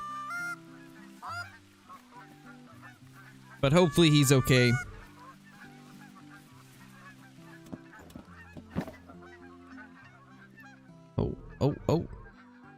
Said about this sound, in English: Once again, so many geese.